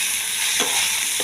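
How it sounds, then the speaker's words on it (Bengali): Onion, tomato and two green chillies fry in a kadai over a black cumin tempering, a loud, steady sizzle broken by two quick spatula scrapes. "ওদিকে দিয়ে দিচ্ছি আমি কড়াইতে কালো জিরে ফোড়ন দিয়ে পেঁয়াজ আর টমেটো কাঁচা লঙ্কা দুটো দিয়ে দিচ্ছি"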